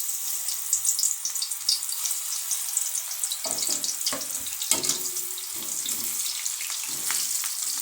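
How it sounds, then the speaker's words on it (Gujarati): Thin slices of raw banana wafers fry in hot oil with a dense, bright, continuous sizzle close by, and a few bubbling bursts and clatters as more slices go in. "હવે આપણું તેલ છે એ સારી રીતે ગરમ થઈ ગયું છે, તો હવે આપણે આ વેફરને"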